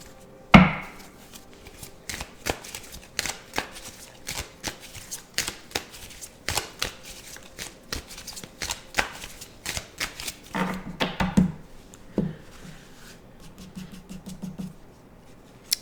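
A Witchy Hollow tarot deck is shuffled up close, giving a long run of quick, irregular card riffles and slaps, with a few louder taps near the start and near the end.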